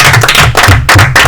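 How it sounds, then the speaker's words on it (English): A round of applause for a podcast guest, with hands clapping loudly and close in a quick, steady patter that fills the whole moment. "Give a round of applause for Elijah, everybody."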